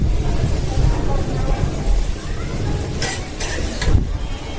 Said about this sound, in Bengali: এখন আলু ভাজা হইতাছে